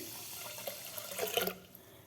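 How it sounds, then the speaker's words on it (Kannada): Water pours into a clay pot for cooking foxtail millet rice, a quiet, continuous splashing trickle that swells briefly before tapering off. "ಈಗ ಇದಕ್ಕೆ 4 ಕಪ್ ನೀರು ಹಾಕ್ತಾಯಿದ್ದೀನಿ."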